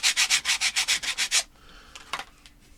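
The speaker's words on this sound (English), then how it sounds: "I'm just going to take the sandpaper and smooth just a little bit of" Sandpaper rubs quickly back and forth over the bare, unfinished wood of a Strat copy guitar neck, about a dozen close, even strokes, then stops, leaving a quiet room with a few light handling taps.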